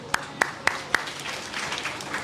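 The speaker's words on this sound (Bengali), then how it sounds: "খুব সুন্দর, হাততালি।" Listeners at a Purushottam month class at an ISKCON centre clap their hands. Four crisp, evenly spaced claps come first, then softer scattered clapping, all fairly quiet in the room.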